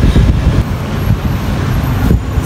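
Dense city street traffic in Bacolod: a loud, close, continuous roadway rumble of cars, buses and trucks idling and rolling past, with brief swells as vehicles move nearby.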